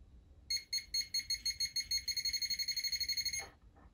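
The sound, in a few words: Kuman KW30 pinpointer metal detector beeping and vibrating near target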